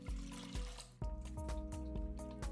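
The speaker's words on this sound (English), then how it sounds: "Also, a few cups of water." Water poured from a container into a cooking pot holding vegan soup ingredients such as hummus and spices, a steady close splashing fill broken by a few brief knocks.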